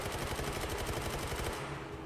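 Rapid, steady gunfire from a video game plays for about two seconds, a dense rattling stream of shots that is loud and close, with no talking over it.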